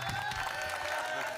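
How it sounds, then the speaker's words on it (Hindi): Audience applause at a Haryanvi comic poetry recital, a steady wash of clapping from a crowd, moderately loud throughout, with faint voices mixed in. "जोरदार तालियां एक बार दोनों हाथ उठाए"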